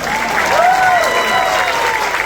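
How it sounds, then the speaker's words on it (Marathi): Loud, dense applause fills a crowded hall at the premiere of the Marathi film Kurla to Vengurla, a continuous clatter of many hands with faint voices and whistles over it. "खूप जोरात टाळ्या"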